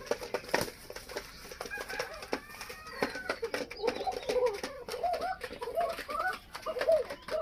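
A Lotan cock pigeon calls and coos close by, with repeated throaty rolling coos building in rhythm, accompanied by scattered clicks and rustles around the loft.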